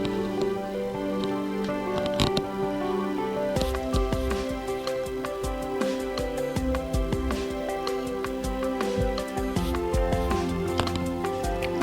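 A steady drum beat plays with sustained strings and keyboard chords layered over it, continuous and fairly full, with no talking.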